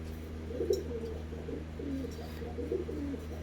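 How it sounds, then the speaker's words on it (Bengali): A male teddy cross pigeon coos close by in soft, low, repeated throaty phrases over a steady background hum. "আরও একটা নর পায়রা, এটাও টেডি ক্রস"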